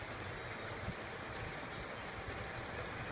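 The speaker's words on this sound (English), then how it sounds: "And man, is it hailing." Spring rain mixed with hail falling outdoors, a dense, steady hiss and patter that runs unbroken throughout at a fairly close, even level.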